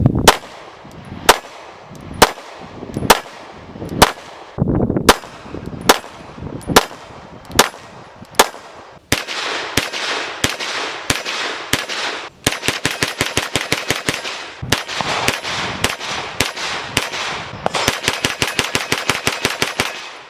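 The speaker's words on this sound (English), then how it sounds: "Now we took the Glock 19 down and we shot it with the comp and then without the comp" A Glock 19 9mm pistol fitted with a compensator fires Fiocchi 115 grain standard velocity rounds: sharp, loud shots, first spaced singly, then in quicker strings and rapid bursts with no talking.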